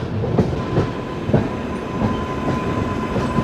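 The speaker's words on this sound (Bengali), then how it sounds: "ওই যে ট্রেনটা বেরালো ওটা SMBT ব্যাঙ্গালোরের" The SMBT Bangalore express runs past, heard from aboard the 12882 Puri–Shalimar Garib Rath Express: a loud, steady rail rumble with regular clickety-clack wheel beats over the joints.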